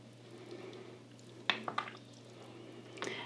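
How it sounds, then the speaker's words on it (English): Faint wet squelches and soft clinks of a spoon stirring tomato basil soup with frozen tortellini in a pot, a few scattered close sounds over a low steady hum. "So all we need to do now is give it a quick stir."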